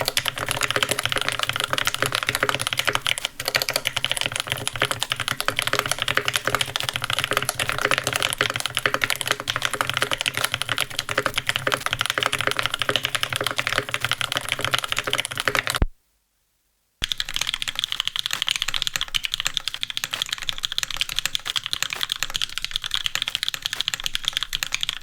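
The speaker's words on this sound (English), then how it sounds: "here we have 12 records of different keyboards from 1986 till nowadays" Computer keyboards from 1986 to the present being typed on, a steady close clatter of keystrokes running continuously, broken once by a brief silent gap before another keyboard's typing resumes.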